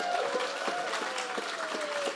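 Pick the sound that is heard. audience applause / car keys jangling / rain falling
audience applause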